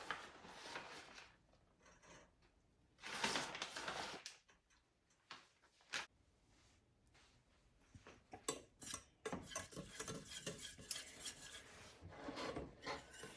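A spoon scrapes and rasps around a pan while stirring a chicken cordon bleu casserole mixture with Dijon mustard and shredded Parmesan cheese. The scraping comes in irregular bursts with quiet gaps and light clinks of utensil on cookware, close by.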